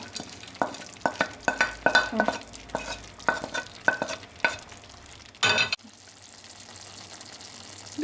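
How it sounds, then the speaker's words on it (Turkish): Minced meat with onions and peppers frying and being stirred in a pan, heard as a run of sharp, close scraping strokes over a sizzling bed, then a brief loud burst before a quieter, steady hiss. "Evet karıştırıyorum kıymamı ve soğanla biberlerimi ilave ediyorum."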